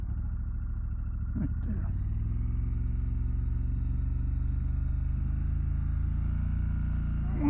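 A 2024 Triumph Scrambler 1200X motorcycle makes a slow U-turn, its engine giving a steady, close, low rumble throughout while a rider speaks briefly.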